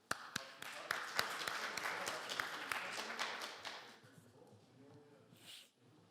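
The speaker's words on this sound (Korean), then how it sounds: "유희진 상무님을 큰 박수로 맞이해 주시기 바랍니다" An audience at a Korean business seminar claps to welcome a Hyundai Heavy Industries executive to the stage, a moderate round of applause with a few sharp nearby claps, tapering off toward the end.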